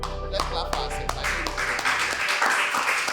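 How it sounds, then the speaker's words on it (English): A group claps in applause for themselves after a speech about company values, a few sharp claps rising into a steady mixed patter lasting a few seconds. "Let's clap for ourselves."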